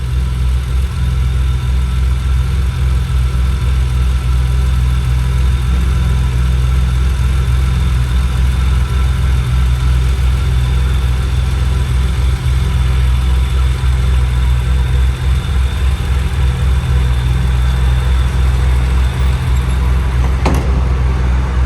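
A BMW engine fitted with individual throttle bodies idles steadily and close up, a loud, even low rumble with a slightly lumpy pulse that holds unchanged for the whole stretch, with no voices over it.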